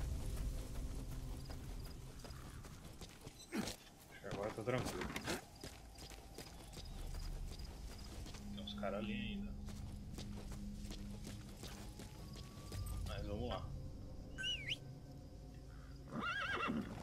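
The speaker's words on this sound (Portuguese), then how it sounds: "Só sair dessa base aqui eu pego o cavalo." A horse in the stealth video game Metal Gear Solid V gives faint clip-clopping hoofbeats and an occasional whinny, heard quietly over game ambience without speech.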